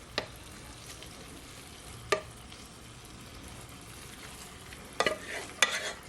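Garlic shrimp noodles are stirred in a pan over a soft, steady sizzle, with a few sharp utensil scrapes and clinks against the pan, quiet and close.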